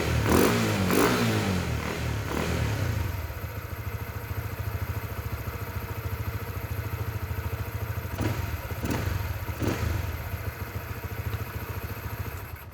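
Motorcycle engine held at steady revs while its throttle body is cleaned with spray, opening with a few thumps and a rev, then a continuous close engine drone with faint clatter.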